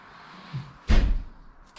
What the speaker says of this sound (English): The doors are just opening and closing on their own.